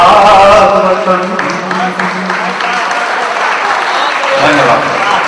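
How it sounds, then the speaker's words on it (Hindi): Audience applause at a Hindi poetry recital (kavi sammelan), a dense steady crowd clapping that holds loud for several seconds after a recited verse, without any spoken words. "आपने जब तालियां बजाई तो मैं सोच रहा था कि मुझे हटाने के लिए बजा रहे हैं या मेरा उत्साह है?"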